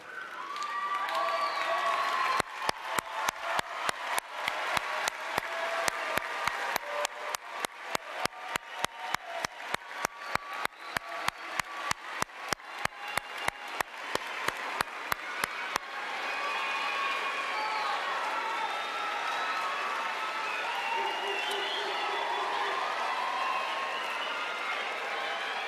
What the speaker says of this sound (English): give them a loud round of applause for their love and support